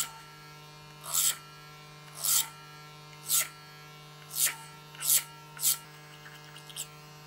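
Hair clippers buzz over a steady electric hum while trimming the sides of a haircut, giving six short bursts of louder cutting at roughly one-second intervals, close and fairly quiet, with no speech.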